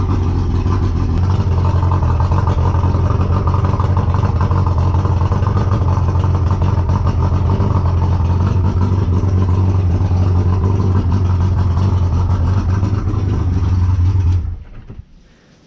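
A Yamaha 115 outboard engine with a smoking, oil-overflowing fault runs steadily and loudly with a low droning hum and rattle, then cuts off abruptly near the end.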